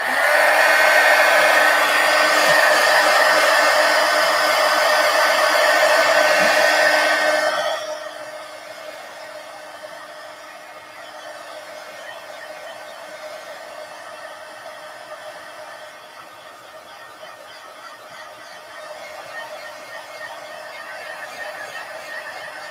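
A hair dryer blows steadily and loudly over mixed media artwork, then drops to a lower, softer setting midway and keeps running with no talk.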